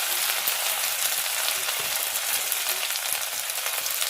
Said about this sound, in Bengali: এই যে 5 ফোড়ন আর শুকনো লঙ্কাটাও তেলে দিয়ে দিলাম। আর এই যে দেখো আদাটাও দিয়ে দিলাম।